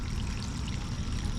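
Irrigation water pours steadily down into a farm field, a dense continuous rushing splash heard up close with no talk.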